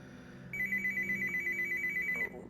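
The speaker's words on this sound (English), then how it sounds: "Phone ringing." Electronic phone ringing in the VR game Another Fisherman's Tale, a steady warbling ring tone sounding for about two seconds, loud and close, then cutting off abruptly.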